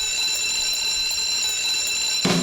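An alarm clock rings at the opening of a TV theme song, a steady high electronic tone held continuously before a burst of music enters at the end.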